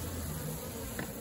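A honey bee swarm buzzing during a hive transfer from a bait box full of honey, a dense continuous drone of many bees close by with no talking.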